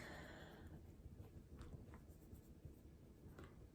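Handwriting with a pen during an unboxing of Ever Moment, a series of faint, soft scratchy strokes at close range under a steady quiet background hiss, no voices.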